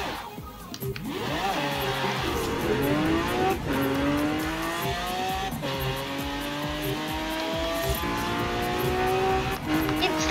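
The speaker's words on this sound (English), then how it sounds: "My Range Rover sounds like a freaking Lamborghini." Range Rover engine in Forza Horizon 4 revving hard through repeated gear changes, each climbing whine cut by a brief drop, with loud racing engine tone and faint tire squeal throughout.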